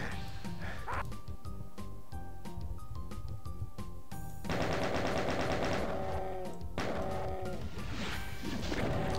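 Gunfire in the video game Doom, rapid repeated shots and crashing impacts in loud bursts, with a bright wailing sound late in the clip.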